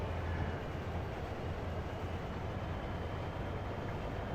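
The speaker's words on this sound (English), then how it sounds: "Here comes another train, believe it or not." A train rolls past on the North Branch Potomac River route in Train Sim World, a steady low rumble held at moderate distance throughout, with no talk.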